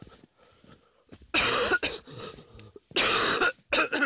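A sick woman coughs twice in harsh, loud bursts, each a rapid cluster of hacks, with quieter breathing and throat sounds between them.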